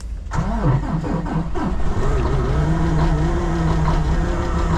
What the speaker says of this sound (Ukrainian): Мінус 24. Холодний пуск. Пробуємо.